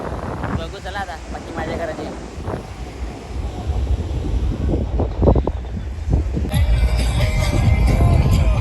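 Strong, steady wind buffets the microphone with a broad low roar on a beach, joined by big waves and surf noise, while voices speak over it.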